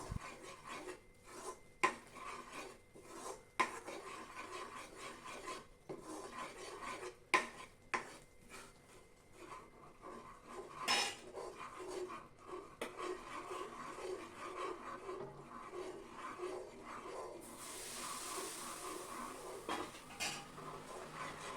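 Gram flour batter for ghee-free Mysore pak stirred continuously in a pan, giving steady scraping and rubbing with occasional sharp utensil knocks against the metal, close and alone with no talk.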